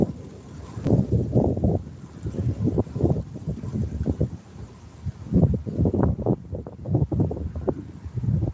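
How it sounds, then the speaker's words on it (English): Gusty wind buffeting a microphone outdoors beside a lake, loud low rumbling bursts that swell and fade unevenly throughout. "this wind's too bad"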